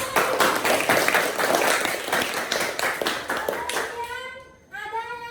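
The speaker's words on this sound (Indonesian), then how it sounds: "berikan tepuk tangan" Children in a classroom clap their hands together in a loud, brisk burst that fades after about four seconds, followed by a voice speaking.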